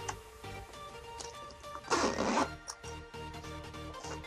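Unzipping an imitation leather pouch for a Bird UM1 microphone, one close, bright zip pull lasting about half a second amid soft handling noise and a low hum.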